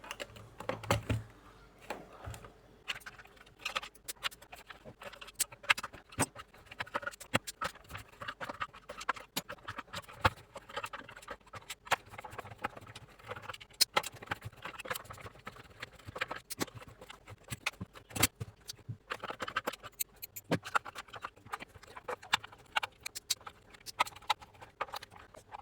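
Small screws being unscrewed one after another from the metal mesh grille of a dead speaker, a dense run of quick close ticks, clicks and scrapes from a screwdriver and handled parts.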